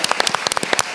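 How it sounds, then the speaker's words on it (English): Audience applause for a conference panel, dense overlapping claps at a steady fast rhythm, fairly loud and close, with no talk over it. "Can we give a round of applause for that?"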